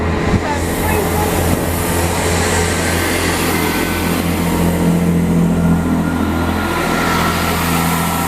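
A Great Western Railway class 165 diesel unit on a service to Greenford passes at West Ealing station, a loud close engine drone with a steady low hum and rolling rail noise throughout.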